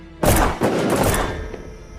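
A close, heavy gunshot booms out during night shooting training in a sniper film, followed quickly by a second blast and a rumbling tail that slowly fades.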